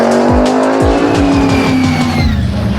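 An alcohol-injected Chevy drag car with more than 1,500 horsepower launching at a quarter-mile event: a loud engine roar with rapidly rising revs and harsh tire squeal, close and continuous throughout.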